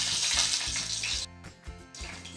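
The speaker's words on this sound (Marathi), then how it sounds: "फोडणीसाठी आपण मिरची घालणार आहोत" Green chillies hit hot oil for tempering a home-style fish curry, a loud crackling hiss that drops out briefly and returns, close up with no voices.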